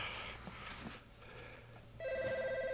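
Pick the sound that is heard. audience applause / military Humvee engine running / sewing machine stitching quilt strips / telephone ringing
telephone ringing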